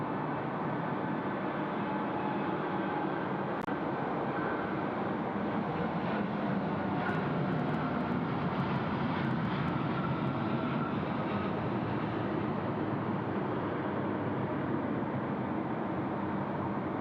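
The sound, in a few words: airplane rolling on runway 34 left at Sydney Airport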